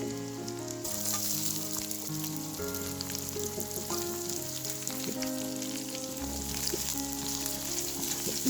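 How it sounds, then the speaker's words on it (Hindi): Onions sizzle and fry steadily in a hot pan for an Odia fish fry dish, a continuous close crackle with no talking. "देखो ये पियाज को भलरे भाजी नबा।"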